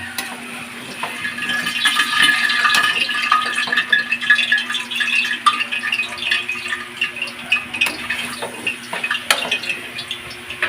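Water splashes and runs steadily into a cooking pot holding squash for several seconds, with a continuous watery rush and occasional clinks, no voices.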